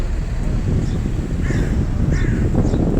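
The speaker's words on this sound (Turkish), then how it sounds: "İşte martılar." Seagulls call a few times from a short distance beside an Istanbul ferry crossing between Kadıköy and Eminönü, their brief cries rising over a heavy rumble of engine and wind.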